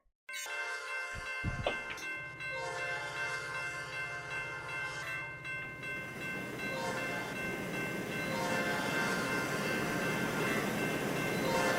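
A Tri-Rail train without its GP40 locomotive races through several railroad crossings in the Roblox RO-Scale Sandbox game. Horn blasts and clanging crossing bells give way to a swelling, steady rumble of rail cars rolling past.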